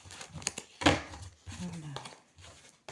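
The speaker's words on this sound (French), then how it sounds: "Je mélange mes cartes." Playing cards are shuffled in a few quick riffling bursts, close and fairly faint, with brief pauses between them and soft talking around them.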